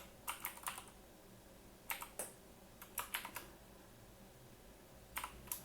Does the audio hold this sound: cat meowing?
no